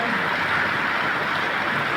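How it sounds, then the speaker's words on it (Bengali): Heavy rain pours down in Dhaka, a steady, dense hiss of falling water that stays loud and even throughout, with no voices. "এই যে অনেক জোরে বৃষ্টি পড়েছে অনেক জোরে বৃষ্টি পড়ে"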